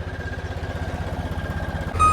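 A tractor engine idles close by at a farm where trolleys are being readied for flood relief. It gives a steady, rhythmic low thumping throughout, and a brief sharper sound breaks in at the very end.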